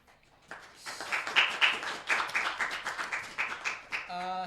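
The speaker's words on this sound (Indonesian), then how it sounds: "tepuk tangan untuk Wani Tombok" Applause for a performer, Wani Tombok, at an arts event: a short burst of hand claps that starts suddenly and holds at moderate loudness, then fades into a voice at the end.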